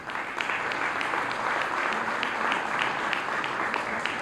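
Sustained applause from a seated audience at a candidates' forum, steady and dense clapping filling the room for several seconds without pause.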